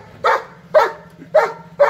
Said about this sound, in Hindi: अरे भौंक रहा यार